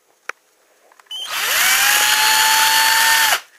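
A handheld power drill whirs up after a couple of sharp clicks and runs at a steady high pitch for about two seconds before stopping, loud and close.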